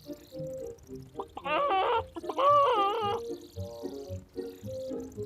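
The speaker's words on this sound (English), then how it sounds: "they hear a strange sound coming from inside the ball of scrap metal. Oh dear, it sounds like the Iron Chicken." The Iron Chicken, a metal bird in the Clangers children's game, clucks and warbles from inside a ball of scrap metal, giving muffled, wavering calls in several short phrases, loud for a moment in the middle and fainter at the end.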